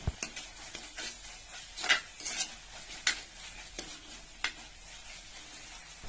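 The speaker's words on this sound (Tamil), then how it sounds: "அப்பப்போ பார்த்து வந்து நீங்கள் கிளறி விட்டுட்டே இருங்க" Liver gravy being stirred in a clay pot, with scattered scraping and clinking spoon strokes and a faint sizzle underneath, fairly quiet and close with no talking.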